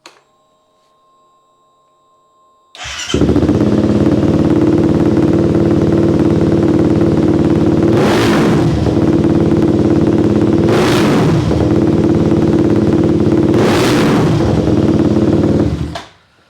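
A Kawasaki KFX450R ATV engine fires up and idles loudly and close by, with three sharp revs spaced a few seconds apart before it cuts off.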